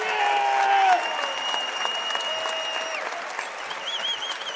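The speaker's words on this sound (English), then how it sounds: "He gets the free throw to fall and will check out as he gets a well-deserved ovation from this Belk Arena crowd." A basketball crowd at Belk Arena in Davidson gives an ovation as a player checks out late in a college game, broad applause beneath tonal arena sounds, steady and moderately loud.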